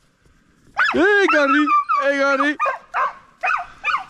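Serbian tricolour hounds bay and yelp during a hunt, a run of loud, close, drawn-out howling barks broken by short yips, with a voice briefly heard.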